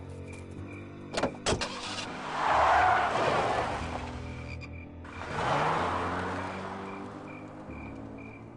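Car driving in the Full Throttle adventure game: a steady engine drone with two swelling passes, brief clicks near the start, continuous and fairly loud with no talking.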